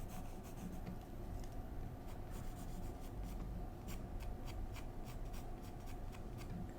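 A pencil drawing lines on paper makes a quiet, continuous scratching rub, with repeated short strokes in a fairly even rhythm, close by.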